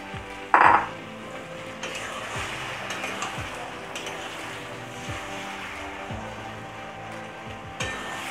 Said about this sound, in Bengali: এবার এতে আমি সয়াবিনগুলো দিয়ে দিচ্ছি।